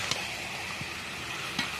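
Young jackfruit and potatoes fry with spices in a pan, giving a steady, moderately loud sizzle with a few soft scrapes of stirring and no talk.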